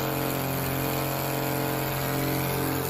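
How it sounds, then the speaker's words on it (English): A STOL bush plane's engine at a back-country STOL competition drones steadily and loudly, throttling up for takeoff as a dense, continuous roar with no pauses. "Adam Plunkett throttling up"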